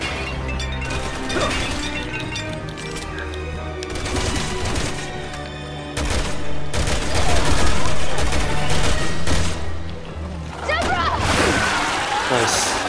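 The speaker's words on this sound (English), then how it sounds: "Ada, help me shoot Deborah." Rapid bursts of gunfire aimed at the creature Deborah in Resident Evil 6, with crashes and impacts piling up loudly over a busy game soundtrack while a player talks at points.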